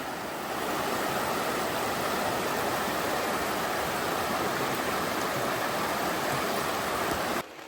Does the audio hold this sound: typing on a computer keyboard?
no